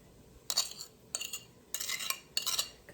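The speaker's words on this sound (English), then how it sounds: "let's add with some onions. Just mix it up a little bit" A spoon stirs onions in a pot in short scraping, clinking bursts, four distinct strokes with brief pauses between, close and clear without talk.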